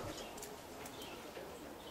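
Young roller pigeons coo softly in a loft where newly paired birds share nesting boxes, low murmuring calls repeating faintly against steady background noise with a few brief flutters.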